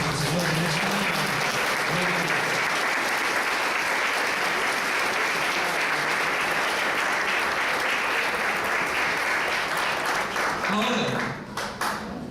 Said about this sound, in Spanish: voy a darle una ofrenda de palmas al Señor en esta mañana